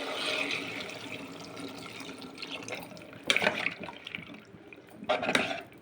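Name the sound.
pouring water into dal before pressure cooking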